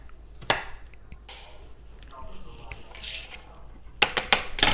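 Carrots being chopped with a knife on a cutting board while making egg rolls, a few sharp knife knocks and clatter scattered through quiet kitchen noise, with brief talk.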